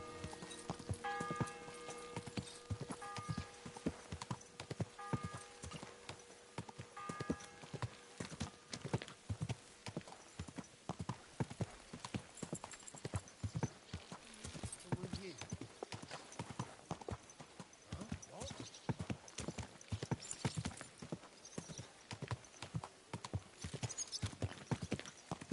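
Steady rhythmic clip-clop of horse hooves in the video game Kingdom Come: Deliverance II, close and continuous, with faint ringing tones and music in the background.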